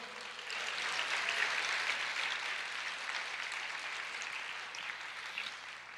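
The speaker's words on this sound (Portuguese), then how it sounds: "Pode aplaudir o Senhor?" A church congregation applauds during a sermon, a broad, steady wash of clapping from many hands that holds fairly even for several seconds at moderate distance.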